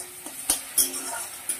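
Curry being sautéed in a pan, with soft sizzling under a few sharp clinks and scrapes of a spoon against the pan, close and fairly quiet.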